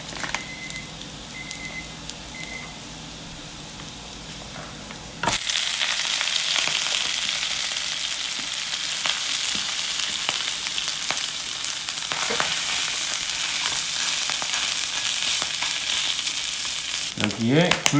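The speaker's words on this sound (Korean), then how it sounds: "로즈마리 넣고 볶아줍니다. 카라멜라이징이 되면 밥을 넣습니다." Rice stir-fried with rosemary in a pan for snow crab fried rice, a quiet low sizzle that jumps to loud, steady crackling frying once the rice goes in, with scraping stirs throughout.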